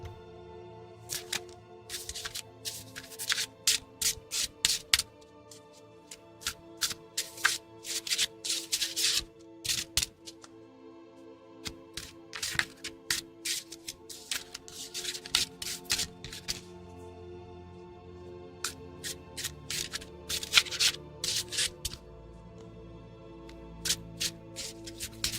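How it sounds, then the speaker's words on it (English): Tarot cards being shuffled close up, with crisp riffling and flicking bursts in irregular clusters over a quiet, faintly humming background. "get your tarot readings in while I do the card shuffling"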